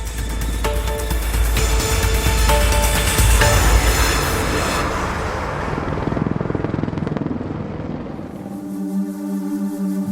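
A loud, close mechanical roar from an Apache attack helicopter at a flying display builds and stays dense before thinning out. It gives way to a steadier, tonal hum as the aircraft noise fades.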